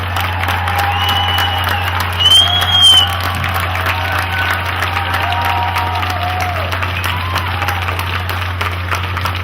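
Crowd applause following a political speech honoring victims, a broad wash of clapping with a brief cheer or whoop rising midway, over a steady low electrical hum.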